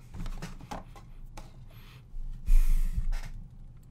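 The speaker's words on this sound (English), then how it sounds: "Give it a little sniff real quick." A few soft, close sniffs and breaths at a bar of African black soap, with one stronger inhale near the middle, otherwise quiet.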